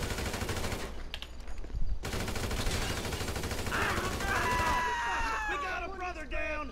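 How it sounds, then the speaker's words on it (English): Sustained automatic gunfire in Grand Theft Auto V, a dense continuous rattle of shots throughout, with shouting voices and a brief whine or siren-like tone rising over the shooting in the latter half. "Barely tell what I'm shooting at."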